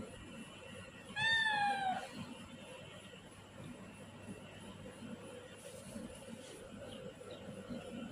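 A house cat gives one clear, drawn-out meow early on, fairly close and moderately loud, followed by quiet room ambience with faint background noise.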